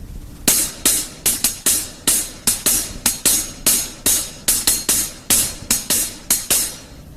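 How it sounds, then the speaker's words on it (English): A hi-hat plays a slow one-beat ostinato pattern on a drum kit, crisp strokes in a repeating rhythm, loud and close with nothing else around. "what we'd have on the hi-hat would be this."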